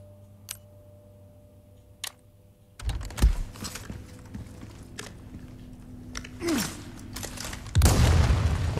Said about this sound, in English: is it worth throwing the grenade?